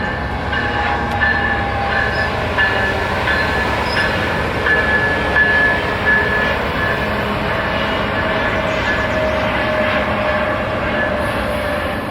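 An EXO commuter passenger train hauled by a Charger locomotive passing at Dorval, Quebec, a loud steady rumble of wheels and engine with ringing tonal lines, sustained for the whole stretch with distant aircraft noise underneath, no speech.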